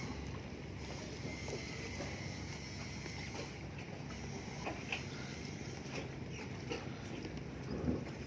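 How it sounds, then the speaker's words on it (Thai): A large fishing boat with nets passes on the Pattani River, its engine a steady low rumble mixed with wind and water noise, distant and faint with occasional light knocks. "เรือประมงคันเมื่อกี้เนี่ยใหญ่ ๆ ที่ผ่านไปนะครับ"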